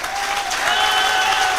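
An audience at an RCM business seminar in Jodhpur claps together in a dense, lively burst of applause, loud and sustained throughout.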